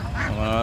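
A duck quacks in a short nasal burst close by at a roadside poultry market, with a low background rumble and murmuring underneath.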